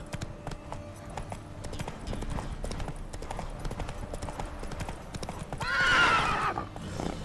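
Horse in The Witcher 3: Wild Hunt game, hooves clip-clopping steadily at a trot with a loud whinnying neigh near the end, amid soft ambient game sounds.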